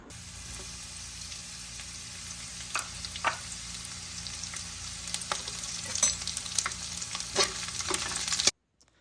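Garlic and onion fry in a pan for kimchi rice with tofu, a soft continuous sizzle with occasional spoon scrapes that grows busier before cutting off abruptly.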